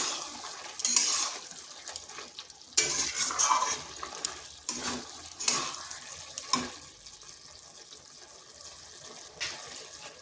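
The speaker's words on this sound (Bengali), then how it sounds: "এটাকে এইভাবে বেশ কিছুক্ষণ কষে নিতে হবে" A spoon stirs and scrapes chicken curry sautéing in a pan, with intermittent clanks against the metal and soft frying and watery sounds in between, fairly close and moderately loud.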